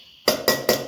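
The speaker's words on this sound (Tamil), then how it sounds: "இதையும் சேர்த்து நல்லா கிண்டி இந்த மாதிரி கிண்டி எடுத்துக்கோங்க" A spoon stirs cake batter for a no-oven cake, giving three quick, close clinks against the bowl after a brief silence.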